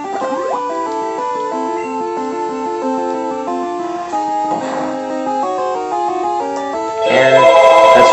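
A mobile phone ringtone plays a bright, steady melody of stacked tones that fills the whole stretch, swelling louder and harsher near the end, heard over a quiet Pokémon Crystal game in the background.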